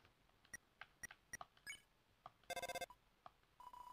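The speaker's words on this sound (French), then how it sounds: "Le téléphone sonne, mais vous ne pouvez pas décrocher." Phone ringing in the video game Deltarune, a string of short electronic tones and blips ending in a rapid burst of repeated ring pulses and a brief sustained beep, fairly faint with no talk.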